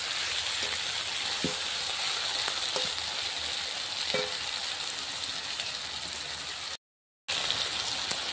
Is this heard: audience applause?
no